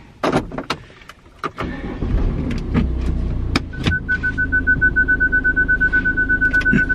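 A car drives with a steady low engine and road rumble, broken by several sharp clicks and knocks early on, then a sustained tone and a pulsing rhythm toward the end.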